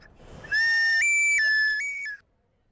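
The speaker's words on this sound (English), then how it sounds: "they gave us like wiener whistles we could play" A plastic novelty wiener whistle handed out at the Wienermobile's stop on a university campus, blown in one loud, sustained shrill tone that steps between a few pitches before cutting off abruptly.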